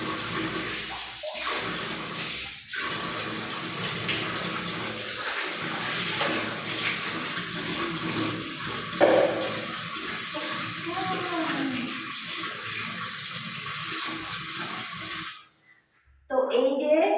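Cold water pours steadily from a bathroom tap into a bucket, a close, continuous rushing splash that lasts about fifteen seconds. The flow cuts off near the end and brief handling sounds follow.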